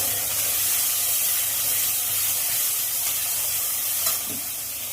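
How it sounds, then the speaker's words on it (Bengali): Whole garam masala, bay leaves and cumin sizzle in hot oil in a pan, a steady bright hiss throughout with a brief stirring scrape near the end and no voices. "মশলাটা একটু ভাজা ভাজা হয়ে গেলে বেটে রাখা মশলাটা দিয়ে"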